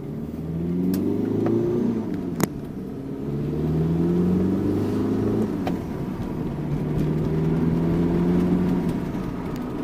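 Vauxhall Combo van engine idling and revving gently through a new universal exhaust back box, a fairly close, smooth low rumble that rises and falls in slow waves, with a single sharp click partway through.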